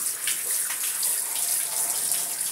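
Steady tap water runs continuously while a pet is bathed, a close, even hiss of flowing water with no speech over it.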